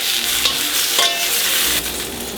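Floured beef cheeks brown in a pot for beef curry, a loud close sizzle and frying hiss with occasional stirring scrapes, no voices.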